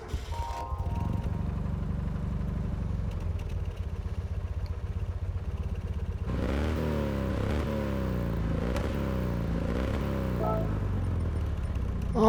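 A 1965 Toyota Sports 800 in Gran Turismo 7 cranks, then settles into a steady idle with a rhythmic, slightly clattery small-engine pulse, clear and close throughout.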